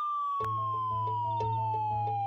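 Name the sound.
police car siren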